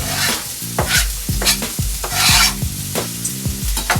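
Carrots, cabbage, onions and bean sprouts for lumpia sauté in a hot pan, a loud sizzle punctuated by quick, rhythmic stirring scrapes and knocks about twice a second.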